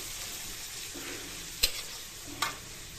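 Steady frying hiss from a pan, with two sharp clinks of a utensil striking the pan partway through.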